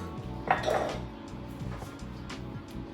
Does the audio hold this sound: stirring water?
yes